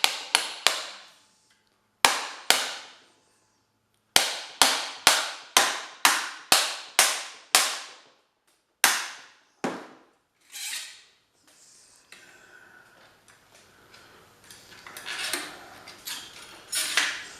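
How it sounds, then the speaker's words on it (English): A bolt is tapped into a salvaged motor with a hammer, giving a series of sharp metallic knocks in uneven clusters with short ringing tails. Scraping, rustling handling noise follows. "Let's give it a tappy tap."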